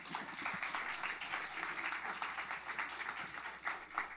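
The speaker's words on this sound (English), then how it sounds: "Give her an applause." Audience applause at a political debate at a culture house, a steady patter of many hands clapping at moderate volume, continuing evenly for a few seconds without speech over it.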